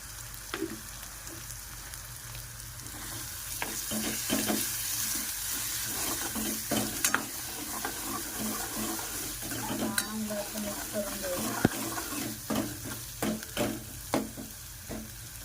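Homemade masala for egg curry frying in oil while a spoon stirs it, a soft steady sizzle broken by scraping and clinking against the pan, close and fairly quiet.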